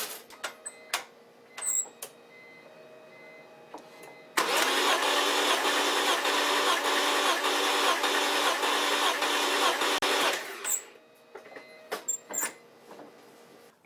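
A BMW E46 M3 engine cranks with the throttle wide open during a compression test: about six seconds of rhythmic, even starter churning, set between quieter clicks and handling noises.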